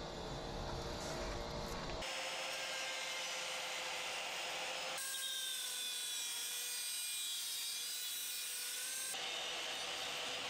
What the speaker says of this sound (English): Technically speaking, diamond blades aren't for cutting metals, but that doesn't mean they won't cut them.